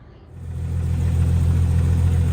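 A Jeep XJ engine catches after a jump start, rising from a quiet start into a steady, loud, close idle with deep low rumble.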